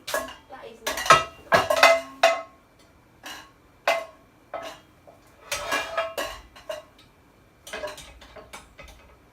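Pots and pans clatter and clank in a home kitchen, with irregular bursts of metal knocks and scrapes separated by short quiet gaps, close and moderately loud.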